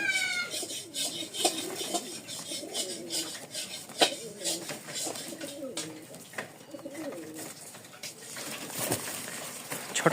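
Pet pigeons coo in soft, repeated bursts nearby, joined by scattered clinks and light clatter and some rustling, with people talking at times.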